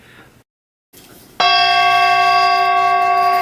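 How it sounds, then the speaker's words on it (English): A Tibetan bell is struck once and rings out loud and close with a bright, sustained metallic tone that hangs without fading, following a brief silence, with no talking. "That's my Tibetan bell."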